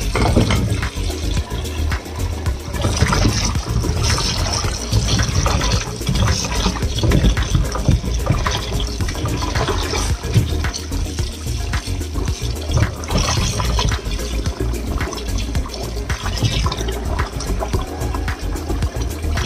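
Tap water runs steadily and loudly over raw chicken breast being washed in a kitchen, a constant close splashing gush with no pauses.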